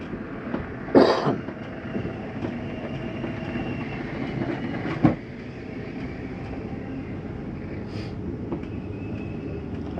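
A Rockwood 2707WS camper's slide-out extends with a continuous low motor rumble, a few faint clunks, and one sharper knock near the middle as it reaches full travel.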